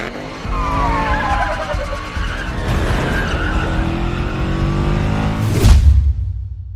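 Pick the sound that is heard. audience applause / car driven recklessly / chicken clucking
car driven recklessly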